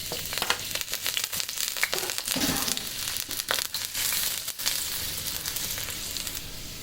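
Finely chopped garlic, one to two cloves, hits hot oil in a pan with a close, steady sizzle and crackle, broken by brief clattering scrapes.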